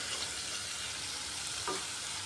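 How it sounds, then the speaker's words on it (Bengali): Fried eggplant and rohu fish pieces go into a potato curry in a hot pan. A continuous soft sizzle runs throughout, with one brief stirring bump near the end. "বেগুন আর মাছ একসাথে দিয়ে দিচ্ছি।"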